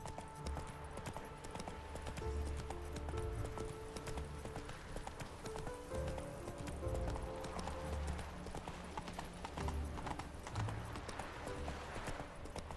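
Roach the horse gallops at length in The Witcher 3, rhythmic hoofbeats clip-clopping steadily and close over a low ambient music bed.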